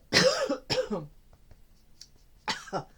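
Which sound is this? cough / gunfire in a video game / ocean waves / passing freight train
cough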